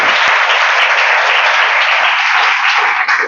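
An audience applauds at a devotional gathering, a dense, steady burst of many hands clapping that stays loud and even from start to finish, with no voices above it.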